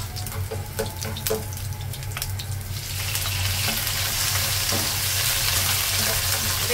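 Shrimp for pansit palabok hits a hot pan and sizzles, a hiss that swells and holds steady after some clinking and stirring noises at the start.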